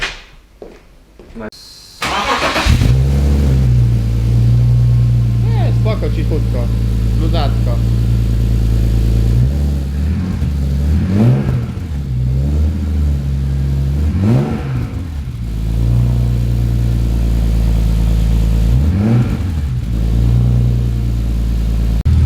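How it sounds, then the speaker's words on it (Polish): BMW E46 330ci race car with a single large exhaust pipe fires up with a loud bark, then settles into a rough idle broken by several sharp throttle blips, with a voice talking briefly at the start. "odpalimy wydech, zobaczymy jak to gada."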